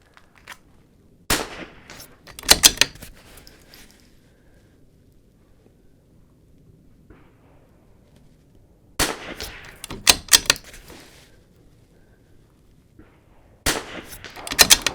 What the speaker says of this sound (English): I'm gonna shoot it one more time since I have it out